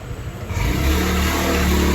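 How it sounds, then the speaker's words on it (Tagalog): A motorcycle engine runs outside a home kitchen where pork menudo is being cooked, a steady loud mid-pitched drone that swells and holds for about two seconds with no talk over it. "ang ingay sa labas. May motor."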